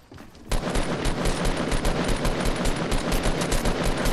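Rapid automatic gunfire from Fortnite, a video game, bursts in after a brief quiet start and continues as a dense, loud stream of shots to the end.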